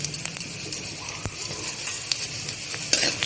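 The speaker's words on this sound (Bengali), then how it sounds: "তেল দিয়ে আমি একটা লঙ্কা দুফাক করে ভেঙে দিয়ে দেবো আর একটু পাঁচফোড়ন দিয়ে দেবো" Chili and panch phoron spices frying in hot mustard oil in a pan, a steady close sizzle with small crackles and pops throughout.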